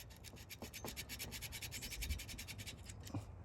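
Folded double-sided sandpaper rubbed back and forth inside a rusty chainsaw part, a quick, even rasping scrape repeating in a steady rhythm, close and fairly quiet, with no talking.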